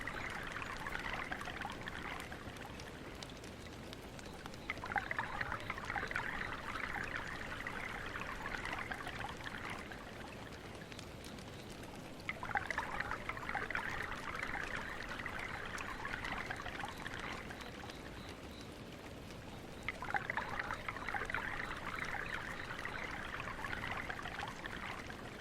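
Water pours and trickles in an ASMR setting, a soft, steady stream that swells in three longer pouring spells over a quiet watery background, close and gentle with no talking.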